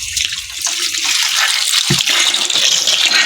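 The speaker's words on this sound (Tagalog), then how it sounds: "Ba't nalusot ang tubig?" Water leaking and gushing through, a loud rushing flow that swells and stays steady close by, with no talk over it.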